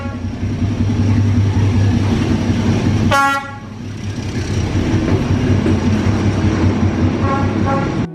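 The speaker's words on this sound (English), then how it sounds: "Watched another train go by." A train rumbles past close by with a steady heavy roar, a brief horn toot cutting in midway and again near the end.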